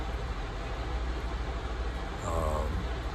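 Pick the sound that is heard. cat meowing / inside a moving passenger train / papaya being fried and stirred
inside a moving passenger train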